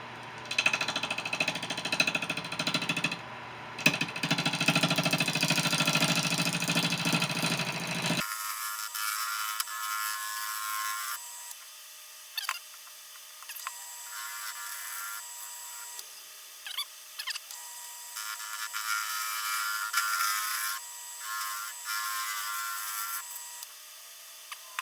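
A wood lathe cuts a white ash bowl with a loud, steady whirring scrape that changes character partway through, then settles into a continuous high mechanical hiss broken by brief clicks and dips as the tool moves over the wood.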